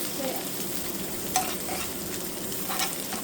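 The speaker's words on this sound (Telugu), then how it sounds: "ఆనియన్స్ ఇంకొంచెం వేపుదామా" Onions and green chillies sizzle steadily in a hot pan, with a few sharp scraping stirs of a spoon cutting through the frying hiss.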